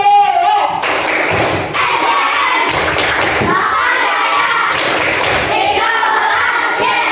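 Schoolchildren in an elementary classroom clap together in a loud, rhythmic class chant, with bursts of hand claps and shouting voices in a steady pattern.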